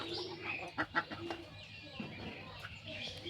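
Chickens clucking at a village poultry yard, a few short bright calls standing out over steady background noise and faint murmuring voices.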